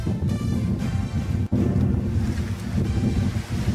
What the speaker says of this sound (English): Outside, the wind had got up, which was creating a few problems.